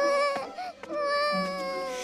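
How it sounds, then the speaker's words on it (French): An animated cartoon baby cries in a high, wavering wail with a brief catch in the middle, close and clear against quiet. "Ne pleure plus, mon bébé."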